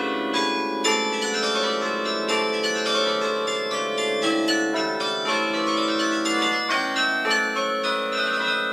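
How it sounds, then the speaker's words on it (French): Carillon bells in the Douai belfry ring out a steady melodic stream of overlapping struck tones in a contemporary concert piece, full and resonant, with no talk. "J'ai toujours entendu les carillons aussi depuis que je suis tout petite."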